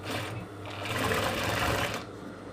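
Sewing machine stitching a corset seam in a short close burst, a fast steady mechanical whirr that speeds up in the middle and stops cleanly after about two seconds.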